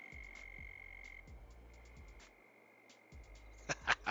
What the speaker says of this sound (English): you hear the frogs?